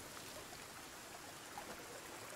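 Creek water flows steadily in the Sons of the Forest video game, a continuous, even rushing and trickling that stays close and fills the whole stretch without pause.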